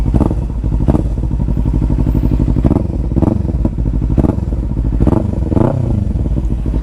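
A modified Kawasaki Ninja 300 with an Akrapovic exhaust idles loud and close, its engine throbbing steadily and punctuated by sharp throttle blips and crackling pops every second or so.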